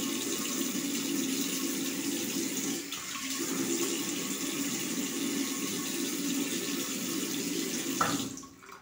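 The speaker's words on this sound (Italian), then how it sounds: "incominciamo con questa sbarbata bagnandoci il viso con acqua" Very hot water runs steadily from a tap into a sink as a face is wetted before a razor shave, a constant close splashing rush that cuts off just before the end.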